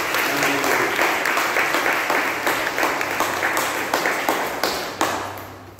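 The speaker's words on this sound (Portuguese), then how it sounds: "Vamos aplaudir o Senhor pelas mães." A church congregation applauds together on Mother's Day, a steady dense clatter of many hands clapping for several seconds before tapering off near the end.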